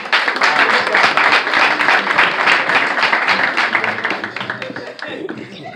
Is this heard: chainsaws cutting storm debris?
no